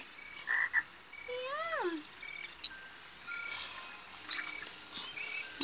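A frog croaks on the soundtrack of the animated Gruffalo film, with a few rising chirpy calls at moderate loudness over a soft, steady room background.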